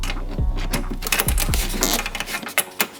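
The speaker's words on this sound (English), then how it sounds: "put my Allen key in my handy dandy little electric screwdriver" A handheld electric screwdriver fitted with a 3mm Allen key tightens a door pull on a BMW 135i interior panel, whirring in a few short close bursts with small clicks between them.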